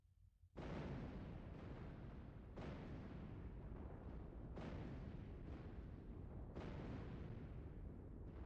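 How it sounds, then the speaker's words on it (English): Explosion effect in the video game Castlevania: a sustained, loud, rumbling roar with repeated bursts roughly every two seconds, continuous broadband blasts layered over one another with no talking. "Kind of a underwhelming explosion."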